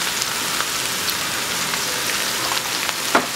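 Green bell peppers, mushrooms and onion with salt cooking in a pan, a steady soft sizzle with light crackling pops and one brief clatter near the end.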